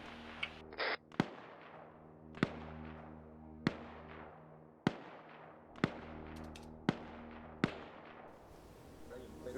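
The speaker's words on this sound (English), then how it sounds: "Unless it's just them shooting each other again" Sharp single gunshots in a tactical military shooter set in Ukraine, about eight evenly spaced cracks at moderate distance, each ringing out with a short echoing tail over a quiet droning background.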